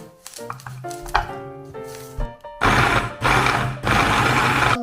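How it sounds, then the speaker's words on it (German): A kitchen blender chops radish, apple, spring onion and ginger, starting with short stuttering pulses and clunks before settling into two loud sustained whirring bursts. "das werden wir jetzt erstmal in den Blender geben und zerkleinern"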